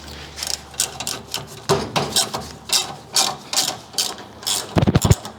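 A ratchet socket wrench turning a 9/16 nut on a 1970 Ford Mustang during a Wilwood disc brake conversion, giving a steady run of close, rapid ratcheting clicks in short bursts, ending with a few sharper, heavier clacks.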